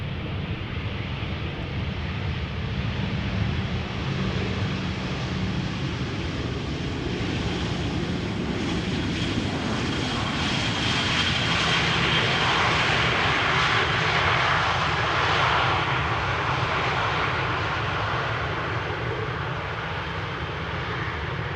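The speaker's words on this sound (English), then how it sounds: "Vueling, flight 8353 arriving from Valencia," A Vueling Airbus A320 airliner arriving from Valencia at Amsterdam Schiphol roars steadily and loudly throughout, its engine rumble swelling slightly midway with some wind buffeting, no voices present.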